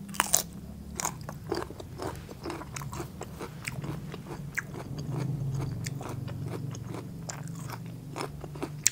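Crunchy fresh vegetables, including young galangal and other local greens, are eaten with a chili dip alongside steamed catfish. Close, repeated bites and crisp chewing crunches keep a steady rhythm.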